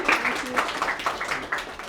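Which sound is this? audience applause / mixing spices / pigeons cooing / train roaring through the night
audience applause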